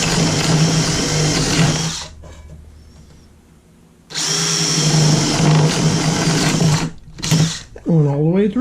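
A tool pierces a soup can in loud, sustained buzzing bursts with a steady whine, separated by quieter pauses and ending in a few short rising-and-falling spurts.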